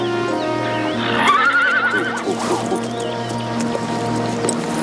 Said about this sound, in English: The horses know something's going on.